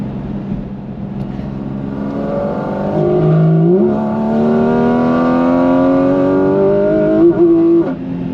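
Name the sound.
Porsche 718 Cayman GT4RS engine revving and gear shift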